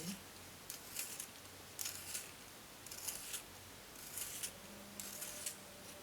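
A graphite pencil being sharpened, a run of soft, close scraping and shaving strokes in regular bursts over a quiet room, with occasional faint tones in the background.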